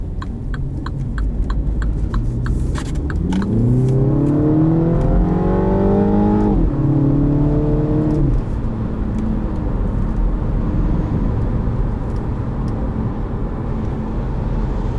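A 2019 Mini Cooper S with an automatic transmission revving as it accelerates, the engine note climbing steadily through a gear before a shift, then settling into a steady cabin drone under road noise.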